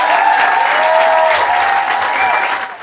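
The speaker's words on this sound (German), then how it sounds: "Ein riesiger Applaus bitte für Rob Bubble." Loud applause and cheering from a comedy show audience for a stand-up comedian's first performance, a dense sustained wash of clapping with crowd whoops that fades out at the end.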